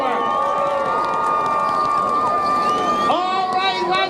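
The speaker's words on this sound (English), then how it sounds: "big, big round of applause for our mayor, Josh Morgan." Outdoor crowd at a Christmas lights event in Victoria Park, London, Ontario, cheering and shouting loudly and continuously, with whistles and raised voices rising near the end.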